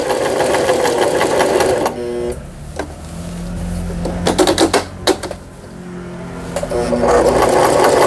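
A Brother XL5500 household sewing machine stitches a straight seam, a fast steady mechanical whir and rattle that stops midway, leaving several sharp clicks and short bursts, before running again at the end.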